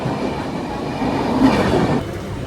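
A Mumbai local train rumbles steadily along the tracks, with a low continuous roar and faint clatter that swells slightly midway, heard close up and with no voices.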